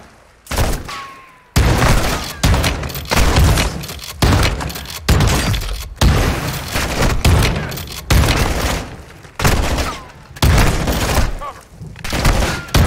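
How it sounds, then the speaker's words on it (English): Sustained gunfire from the video game Call of Duty Modern Warfare 2 on PC, repeated loud bursts and blasts filling nearly the whole stretch with brief pauses between volleys. "They shoot now."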